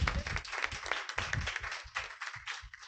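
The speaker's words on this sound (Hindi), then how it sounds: "एक बार जोरदार तालियां चाहूंगा" An audience claps steadily at an indoor event honoring an author, a dense run of overlapping handclaps that thins out near the end, heard close and without talk.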